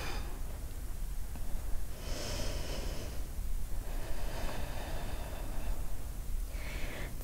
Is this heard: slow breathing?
yes